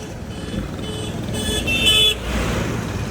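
Road traffic passing on a mountain road in the hills near a roadside gathering: a continuous broadband rumble of cars and engines going by, swelling as a vehicle passes close with a brief higher-pitched toot-like tone before easing off.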